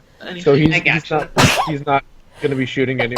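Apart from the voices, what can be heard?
sneeze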